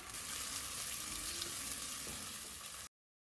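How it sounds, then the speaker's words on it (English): Three sliced onions sauté in half a cup of hot oil, a soft, even frying hiss that runs steadily and then cuts off abruptly into silence. "Add 3 sliced onions. Saute until brown."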